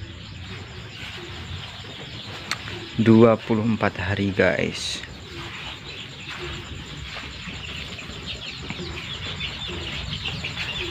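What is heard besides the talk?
free-range chickens clucking in their coop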